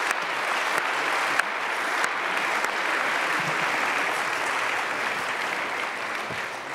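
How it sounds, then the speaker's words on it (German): Sustained applause from a conference audience closing a panel discussion on digital health, a dense, steady wash of clapping held at full strength for about seven seconds with no talk over it. "noch einmal einen Applaus für alle,"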